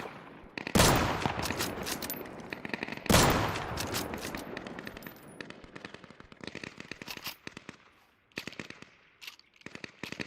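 Automatic gunfire in the survival shooter Deadside: two loud sustained bursts of rapid shots with crackling tails, then scattered shorter volleys and single cracks trailing off, heard alone without talk.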